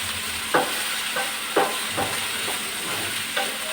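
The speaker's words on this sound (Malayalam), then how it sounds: "വെണ്ടയ്ക്കയും കൂടെ വഴറ്റി വെച്ചിട്ട് സാമ്പാർ ഇട്ട്" Okra sautéing in a pan: a steady soft sizzle with several distinct scraping stirs spaced about a second apart, close by and moderately loud, with no talking.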